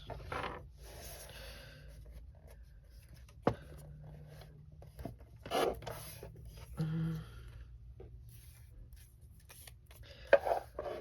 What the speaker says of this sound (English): I gotta get my cutter back out because I'm gonna have to cut this to 4 inches